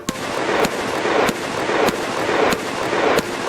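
Rifle fire in bursts from a Wild West video game: sharp, loud shots repeating at a fairly regular rhythm about every half second, close and alone with no talk.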